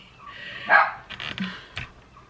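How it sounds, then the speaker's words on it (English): A dog indoors gives a few close, sharp barks spaced over a couple of seconds against a quiet room. "We have a barking dog."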